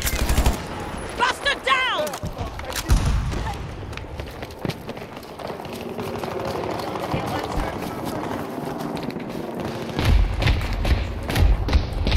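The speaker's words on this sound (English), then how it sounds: "Grenades" Grenades explode in the video game Battlefield: heavy booming thuds land amid rapid gunfire and bursts of clatter, with voices talking over the action.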